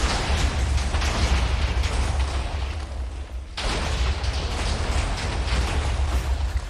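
A dense, continuous barrage of booming explosions and crackling bursts in a space-building video game, with dozens of blasts going off at once as a structure is eaten away, sustained and loud with one brief dip midway.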